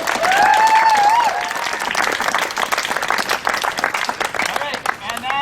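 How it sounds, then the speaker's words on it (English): An audience at a post-meeting gathering for a divestment campaign applauds a speaker with sustained clapping and crowd noise. A voice is heard over the start, and the clapping thins slightly toward the end. "let's hear a big round of applause for Adam"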